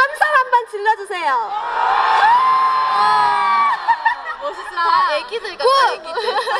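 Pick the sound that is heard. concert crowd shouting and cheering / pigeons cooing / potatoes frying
concert crowd shouting and cheering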